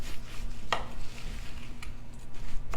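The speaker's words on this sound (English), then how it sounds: "1 cup of oats, and I'm using the old-fashioned. We're just mixing that around" Old-fashioned oats are stirred around in a bowl, with soft scraping and a few sharp clicks of the utensil against the bowl, close and quiet.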